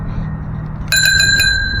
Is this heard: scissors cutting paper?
no